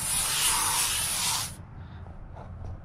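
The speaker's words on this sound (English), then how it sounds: "This stuff is like candy, like aerosol candy, dude. Like, you spray it" Glade Cranberry aerosol air freshener sprays in one long, loud, close hiss of about a second and a half, then cuts off to quiet room tone.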